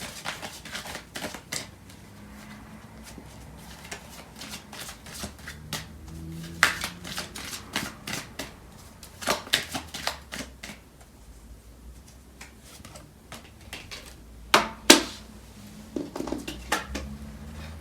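A tarot card deck is shuffled and handled up close, giving irregular soft slaps, riffles and light clattering taps in scattered bursts over a quiet background.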